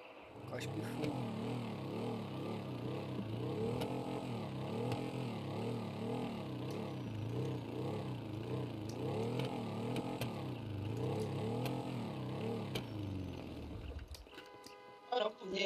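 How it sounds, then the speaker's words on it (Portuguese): A motorcycle engine in GTA roleplay revs up and down repeatedly in a wavering, rising-and-falling drone, then cuts off abruptly near the end. "Essa moto aqui. Cospe fogo."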